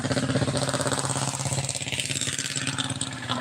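A new motorcycle engine idles after starting, with a steady close, pulsing mid-pitched putter that stays even throughout.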